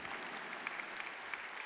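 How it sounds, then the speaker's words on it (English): Commencement audience applauding at a winter graduate school ceremony, a steady, distant wash of many hands clapping, faint and even throughout with no voices. "You can clap."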